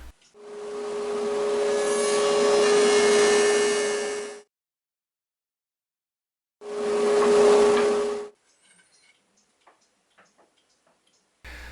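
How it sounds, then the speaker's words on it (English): A wood jointer planes an oak board flat in two passes, each a loud steady whirring roar with a strong hum, the first about three seconds and the second shorter. Quiet clicks and knocks follow, and there is no talking. "I'm planning on passing this through my jointer"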